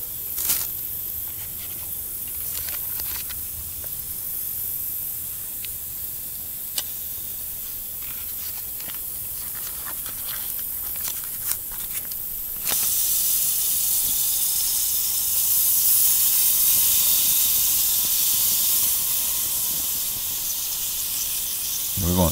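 Cauliflower mushroom sautéing in butter in a pan, a steady sizzling hiss that starts out faint with some clinks and then jumps sharply louder and brighter halfway through, continuing as a strong, even sizzle.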